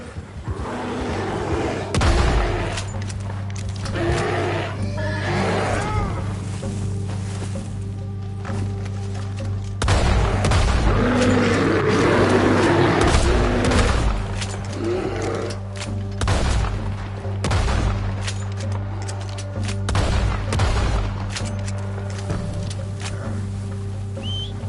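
Gunfire aimed at a bear in Red Dead Redemption 2, with heavy booming shots at irregular intervals over a steady low outdoor game ambience, some loud and close, others duller.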